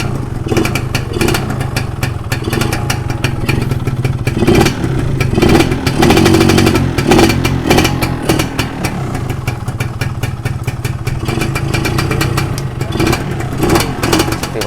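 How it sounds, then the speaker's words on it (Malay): A Yamaha 125Z two-stroke motorcycle engine runs loudly and close, with a rattling, uneven rev that rises and falls throughout. "Kita try start motor ni tengok."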